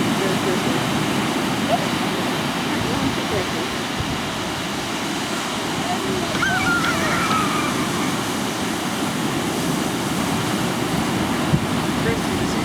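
Choppy ocean surf at a beach makes a steady, broadband wash of breaking waves and wind throughout, with people talking faintly in the background.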